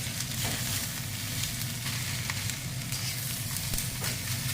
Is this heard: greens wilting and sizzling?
yes